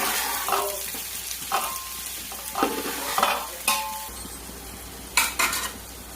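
Onions fry for chicken biryani in a pan, giving a steady close sizzle broken by several scraping stirs of a utensil and a few sharp clinks against the metal.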